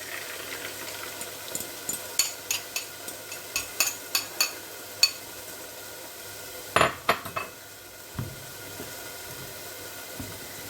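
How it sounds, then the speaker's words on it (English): An omelette is cooked in a hot pan as utensils tap and scrape against the metal in a run of sharp clicks and clatters over a faint background hum. "now we can start making the omelette"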